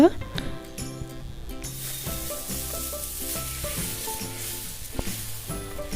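Onion chili dosa sizzling and frying in oil on a pan, a continuous crackling hiss with occasional clinks of a utensil, close and steady.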